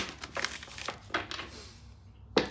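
A deck of tarot cards is shuffled at close range, giving a few soft, brisk riffling and slapping bursts with short pauses between them and a sharper final snap.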